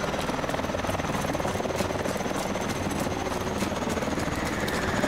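Continuous loud aircraft engine and rotor roar of a Warbird in the game Call of Duty: Advanced Warfare, steady and close with battle noise layered over it, no voices.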